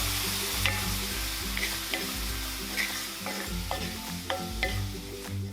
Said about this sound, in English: add in 1 tablespoon of organic maple syrup, being sure to stir right away so that you can coat the nuts evenly